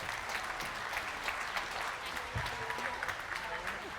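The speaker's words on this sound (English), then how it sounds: "I want you to put your hands together and give an enormous cheer" An audience applauds and cheers a presenter at a Property Elevator event, a steady dense wash of clapping with whoops that fills the room throughout.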